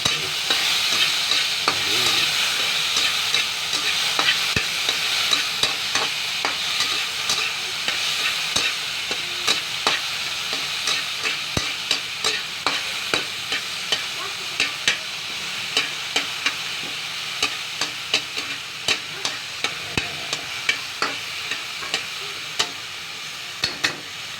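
Tomatoes sizzle and fry in a pan while a fish soup is being cooked, with steady broadband hiss and frequent sharp stirring clicks and scrapes throughout; no voices.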